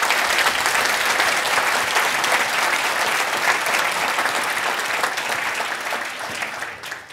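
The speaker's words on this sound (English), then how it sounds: "they certainly deserve a round of applause" A large conference audience at a Selenium software event gives sustained, loud applause, a dense wash of clapping that holds steady and then fades slightly at the end.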